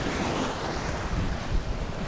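Small sea waves wash onto a beach on the Sichon–Khanom coast of Thailand, a close, continuous rushing surf mixed with gusty wind buffeting the microphone, with no voices.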